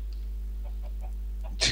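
Minecraft chickens clucking, a short series of soft evenly spaced game clucks over a constant low hum, ending in a sudden louder burst of sound.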